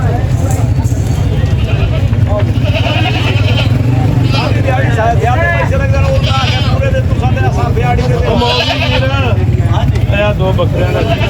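Goats bleat repeatedly at a busy livestock market in Lahore, scattered calls rising over constant crowd babble and traffic noise.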